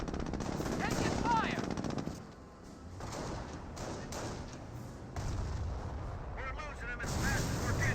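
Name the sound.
gunfire and artillery from the video game Company of Heroes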